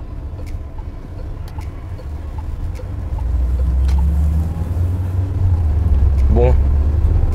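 Peugeot 508 engine on a test drive in Côte d'Ivoire, a low steady cabin drone that swells as the car is pushed harder, with someone talking over it.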